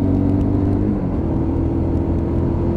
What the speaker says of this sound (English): a nice deep growl from that exhaust can